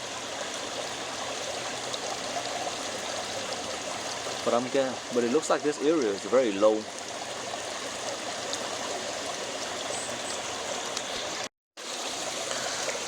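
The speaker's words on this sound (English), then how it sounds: "Water's coming out this way now." Water streams steadily out of a koi pond converted from a swimming pool, a constant trickling rush that continues beneath a man's brief remarks.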